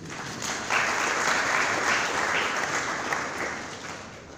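Lecture audience on women's history in Ghana breaks into steady clapping that starts crisply and holds at an even level for several seconds, with no talk over it.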